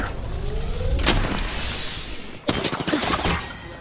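Gunfire in the video game Apex Legends: loud, close bursts of rapid shots come in two clusters, the second denser and more sustained, over constant game background noise.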